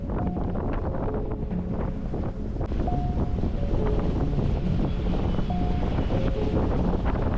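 Steady wind at sea, about 20 knots, rushes and buffets the microphone while a sailboat sails at speed with the wind on the beam, with water wash and faint rigging tones beneath.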